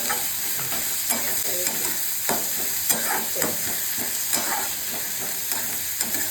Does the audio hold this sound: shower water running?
no